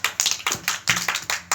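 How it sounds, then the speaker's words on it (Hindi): Hands clapping in a steady rhythm, about eight sharp claps in under two seconds, close and loud, with no voices over them. "ताली मारो"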